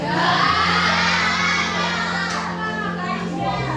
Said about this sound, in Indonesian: Kenapa yang cewek-cewek teriak-teriak?